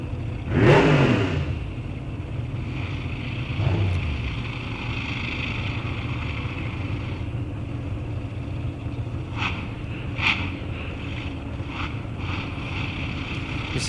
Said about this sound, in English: These cars have smaller motors that run much, much higher RPMs.